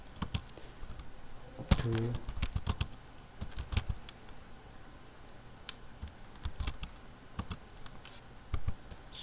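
Typing on a computer keyboard while coding HTML and CSS, with quick irregular clicks and clacks close by and a brief spoken word in the middle.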